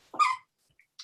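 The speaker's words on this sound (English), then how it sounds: "excuse my dog, she's pretty restless right now" A restless dog lets out one short close whine-bark, followed by a faint yip and a brief snuffle in an otherwise quiet room.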